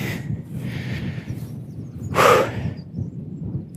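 Gusty early-morning wind buffets outdoors at Mahon Falls with a low steady rumble, rising into one louder whooshing gust midway before easing back.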